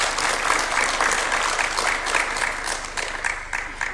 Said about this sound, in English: I think it's worth a good clap